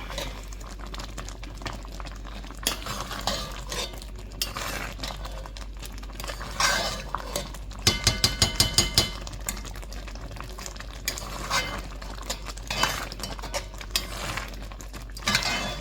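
Canned food being stirred in a pot, a spoon scraping and clinking against the metal in scattered strokes, with a quick run of sharp taps midway, all fairly close with a low steady hum underneath.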